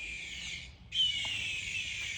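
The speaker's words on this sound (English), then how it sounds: "in case you're wondering what's that noise, that's the thing that drives away the animals and birds from digging my plants" A bird and animal deterrent device in a garden gives off a loud, shrill electronic squawk that runs steadily, breaks briefly, then resumes at close range.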